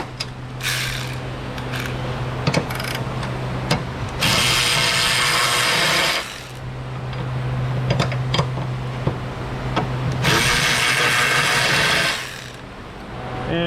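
An impact wrench removes rear subframe bracket bolts, giving two loud, sustained bursts of hammering against steady mechanical background noise, with lighter clicks and rattles between them.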